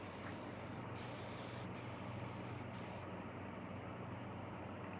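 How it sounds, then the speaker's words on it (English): Spray painting a car in Car Mechanic Simulator 2021 with high-gloss white factory paint, a continuous loud hiss with brief interruptions, steady throughout over a low background hum. "now we got to spray it the factory color"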